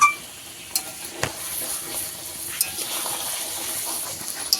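Fish pieces being stirred and sautéed in thick masala in a pan as the water cooks off, a steady low sizzle with a few sharp scrapes and clacks of the spatula, fairly close.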